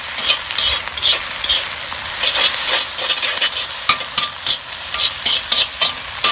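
A stir-fry cooks in a Lodge wok over a Weber charcoal grill, producing a loud, continuous sizzle with bursts of hiss as ingredients are tossed and stirred, close up and with no talking.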